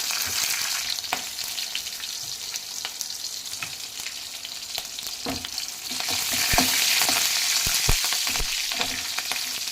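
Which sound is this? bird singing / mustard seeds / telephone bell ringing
mustard seeds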